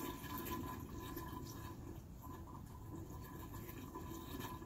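Water pouring steadily into a pool pump while the pool is closed for the season, a faint, even rushing hiss that runs continuously with no voices.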